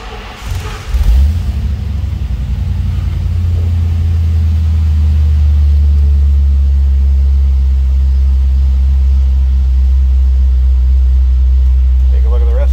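A 1955 Ford Fairlane Victoria two-door hardtop with a V8 engine cranks and catches, then settles into a steady, loud low idle rumble that runs on close by with no break.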